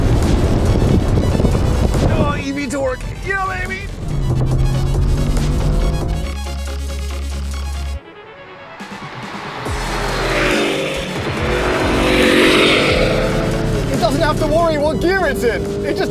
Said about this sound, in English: Three, two, one, go! Oh my god, the Rivian's just taken off!